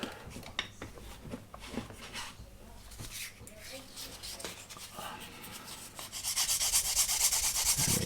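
Abrasive sanding on the flat edge of a plastic part from a 1/48 scale Miniart Junkers F13 model kit gives soft, close rubbing and scraping strokes, turning into a steadier, harsher rasp near the end.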